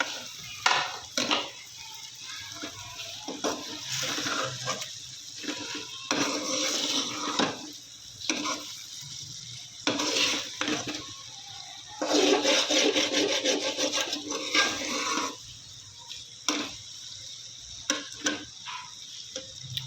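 Okra stirred into a fried masala in a pan, heard as repeated close rubbing and scraping strokes from a spatula in uneven bursts with short pauses, and no voices.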